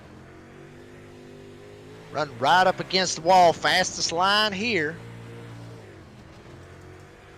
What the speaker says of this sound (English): you can hear that engine run, just humming all the way around this bad boy, riding on board